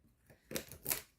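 Scissors snipping meadowsweet roots into pieces, a few quiet, close crisp cuts in quick succession with soft rustling between them.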